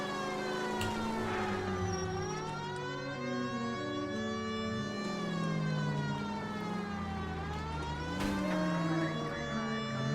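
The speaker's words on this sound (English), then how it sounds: "And it gets a siren." A police car siren in the video game L.A. Noire wails in long rising and falling sweeps over a low engine rumble, loud and close, with no talk.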